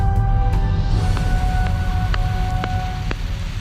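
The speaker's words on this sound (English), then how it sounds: "a constant barrage of galactic white noise" Galactic radio noise from space, heard as a loud, constant hiss of static with faint steady tones and a series of sharp, regularly spaced clicks, without voices.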